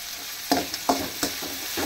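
Pulichi keerai (sorrel leaves) are sautéed in a pan with a low, even sizzle and several sharp, close scrapes of a spoon against the metal, with no voices.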